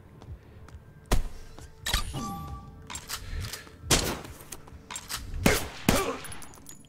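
Gunshots in the VR shooter STRIDE, several loud close single shots spaced about a second apart, each with a short ringing tail and mechanical clatter between them.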